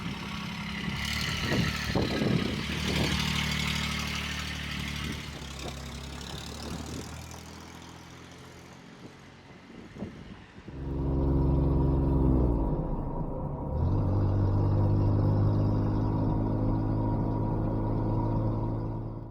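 A Kubota diesel engine fitted in a Saturn SC1 car runs steadily, first rumbling unevenly with some knocks and clatter, then after about eleven seconds settling into a louder, smoother drone as the car drives.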